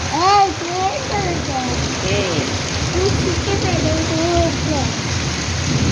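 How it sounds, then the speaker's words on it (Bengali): Heavy rain roars steadily throughout while a voice talks over it with rising and falling tones. "জোর বৃষ্টি।"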